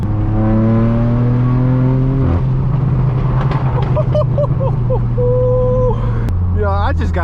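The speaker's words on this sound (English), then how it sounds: "the cracks and bangs don't get old on this car" A straight-piped BMW M4 F82 rumbles under steady engine drone, with revs shifting and several sharp exhaust crackles near the end, heard from inside the car while a person talks over it.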